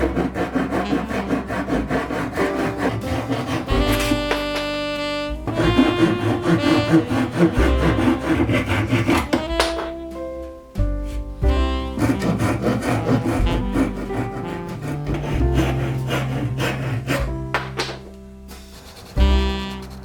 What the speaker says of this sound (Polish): Mamy rozrysowane linie, więc czas na cięcie.